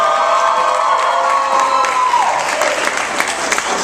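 A crowd at a live haiku deathmatch cheers and whoops for the champion, loud sustained yelling giving way to dense applause with sharp individual claps.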